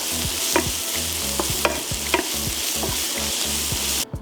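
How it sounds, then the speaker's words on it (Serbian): Seasoned mushrooms stirred and fried in a pan with salt and pepper, a steady sizzle broken by repeated scraping strokes of the spoon, close and fairly loud with no talking. "Promešati i propržiti još 2 minuta."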